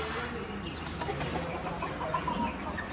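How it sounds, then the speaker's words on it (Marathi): Village roosters cluck softly inside a large cage at a roadside dhaba, their low calls scattered and faint beneath steady background noise. "आपले बघा इथे गावठी कोंबडे आहेत"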